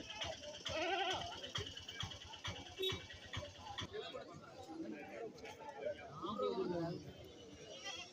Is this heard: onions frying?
no